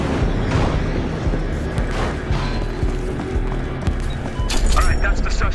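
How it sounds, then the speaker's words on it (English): An explosive charge detonates during a Battlefield Hardline match, a deep boom rolling through the din of combat, with gunfire and game voices layered over it and a heavier impact near the end. "Charge has been detonated."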